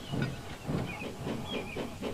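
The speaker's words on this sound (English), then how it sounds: "his driver opened his regulator, and James had to head off to fetch his goods train" Steam locomotive hauling away to fetch a goods train after its regulator opens, giving rhythmic puffing chuffs with steady hiss, about five beats in two seconds, moderately close with no talk.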